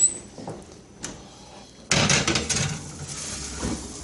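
An oven door in a home kitchen swings open with a sudden loud clunk and rattle, followed by a few lighter knocks and clatters as trays go into the preheated oven, with no talking.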